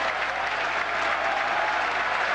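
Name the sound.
applause from Panathinaikos basketball fans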